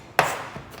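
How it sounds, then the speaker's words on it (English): A knife chops garlic cloves for chicken shawarma: one crisp, close chop, then a softer second tap. "So let's carry on chopping"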